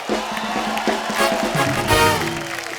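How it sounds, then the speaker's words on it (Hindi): A studio audience on a Kapoor family special of the Kapil Sharma Show claps and cheers for Neetu Singh, a loud, dense burst of applause with whoops rising and swelling over a few seconds. "जोरदार तालियां हो जाए हम सबकी फेवरेट ब्यूटीफुल नीतू जी के लिए"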